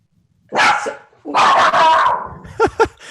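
Small dog yapping in a room: a couple of sharp barks, then a longer run of rapid yips, ending in two short high whimpering yelps, close and loud.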